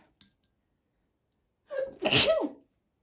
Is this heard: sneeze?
yes